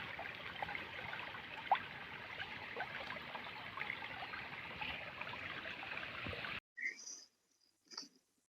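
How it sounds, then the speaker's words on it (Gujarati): Water from a main farm channel runs steadily into a field plot being irrigated for a sown sorghum crop, a continuous moderate rushing gurgle heard up close, cutting off abruptly near the end with a couple of faint knocks. "પાણી આ રીતે આવે છે ધોરીએથી ને આમ કેરામાં પાણી જાય છે"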